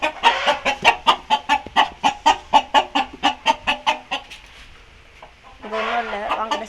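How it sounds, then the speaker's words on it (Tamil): Chickens on a farm give a rapid run of loud, close clucks in a regular rhythm, then a short pause, then a burst of denser, overlapping squawking. "பின்னாடி வந்தீங்கன்னா இங்கே கோழி புதுசு."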